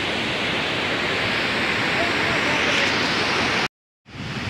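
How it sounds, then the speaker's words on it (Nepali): A river flows past a huge landslide at Tirtire on the Badigad, giving a loud, constant broadband rush of water that cuts out abruptly near the end before returning, with a voice speaking over it. "यो नदी जहाँबाट बहाव अहिले बगिरहेको छ"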